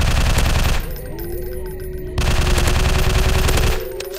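Rapid automatic gunfire mowing down zombies in a shooting video game, loud dense bursts near the start and again in a longer burst later, with a quieter pause between.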